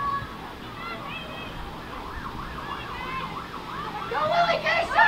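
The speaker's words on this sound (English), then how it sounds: "And here comes some more sirens, Joey." Emergency vehicle sirens wail in rising and falling sweeps, growing louder toward the end, heard from the sidelines of a JV girls' high school sports game, with crowd talk underneath.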